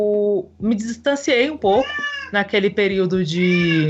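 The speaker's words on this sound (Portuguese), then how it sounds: "Esse é o gato querendo participar." A cat meows several times, loud and close, with rising and falling cries mixed in with a person speaking Portuguese nearby.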